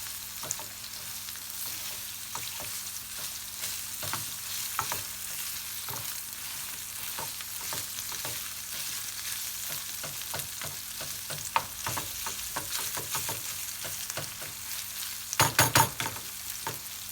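Red peppers and cottage cheese (lor) frying in a pan and being stirred, giving a steady sizzle broken by scattered clicks and scrapes of the utensil, louder near the end.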